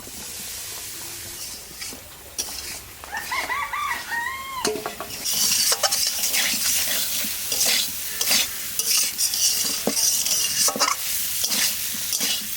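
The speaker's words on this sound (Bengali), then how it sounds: "মশলার সাথে আলুটা একটু কষে নিলাম" Fried new potatoes being sautéed with spices for a Bengali fish curry, a close, loud stir-and-sizzle with repeated scraping strokes, while a chicken clucks briefly in the background near the start.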